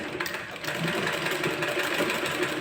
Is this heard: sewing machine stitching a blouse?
yes